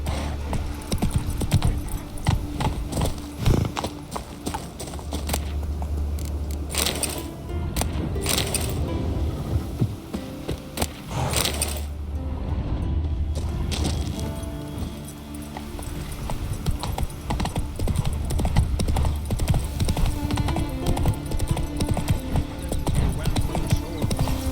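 Roach the horse trots in The Witcher 3, hooves clip-clopping in a steady rhythm over a dense backdrop of game effects and music, with a brief whinny and occasional voices.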